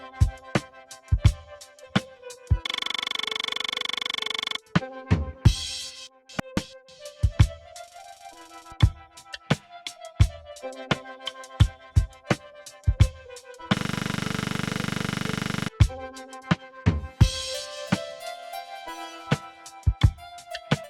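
Electronic drum pattern played back in the AUM app on iOS, sharp repeated hits in a steady loop interrupted by two bursts of noisy sustained tone, fairly quiet and without speech.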